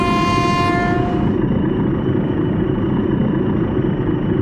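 A TEM-2 shunting diesel locomotive in BeamNG runs at speed hauling barrels, a loud steady rumbling drive with a sustained horn blast over the first second and a half before the engine roar carries on alone.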